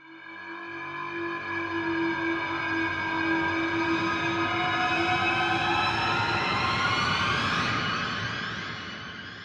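Orchestral hits from the Vienna Smart Hits sample library, played through key-switched short, medium and long articulations, here a loud, dense sustained swell that holds for several seconds and then rises in pitch before fading.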